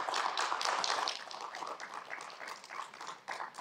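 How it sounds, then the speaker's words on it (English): Audience clapping at a city council meeting in Chandler, a dense patter of many hands that runs steadily throughout, fairly close and loud with no talking over it. "You guys can clap because the other side clapped a lot, so we're all clapping here."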